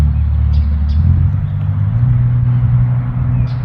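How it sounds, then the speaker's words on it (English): Steady road traffic with cars passing close by, a continuous low engine rumble that swells slightly without any clear break. "There's a lot of traffic."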